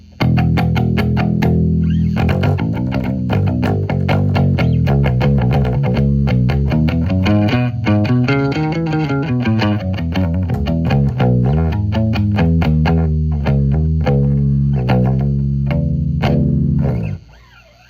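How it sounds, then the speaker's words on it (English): Heavily distorted bass guitar played with a thick pick that scrapes the string, a continuous run of picked notes with a gritty, scraping attack, loud and dense throughout before stopping abruptly. "A thick pick is sturdy and it'll really dig into the string and give it a scrape."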